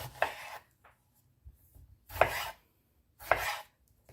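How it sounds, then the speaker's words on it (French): A knife cuts tomatoes into quarters on a board, with three distinct chopping strokes and a few faint taps in between, close and otherwise quiet. "Ensuite, couper les tomates en 4"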